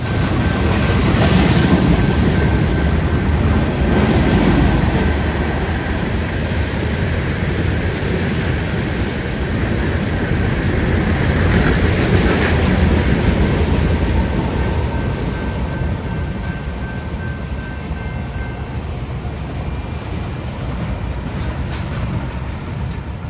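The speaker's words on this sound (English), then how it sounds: "This guy's a rock train, and he's probably bound for some maintenance in Texas or some sort of new construction project." A rock train rolls past on the railway, a loud steady rumble of wheels and cars with faint clatter that holds for the whole stretch and eases slightly near the end.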